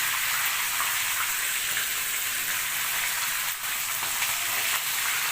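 Chicken pieces frying in hot oil for crispy drumsticks, giving a loud, continuous close sizzle with a faint crackle throughout.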